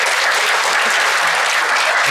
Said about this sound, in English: Josephine, let me clap for her for me